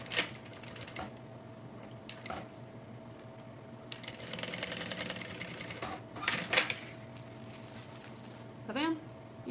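A sewing machine stitches a bag seam in short separate bursts of rapid clatter with quiet gaps between them, and a voice is faintly present.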